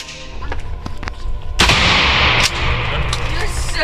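A pistol fired at a shooting range, heard as a loud, sharp crack with a booming tail, then a second report, over steady outdoor background noise and faint nearby talk.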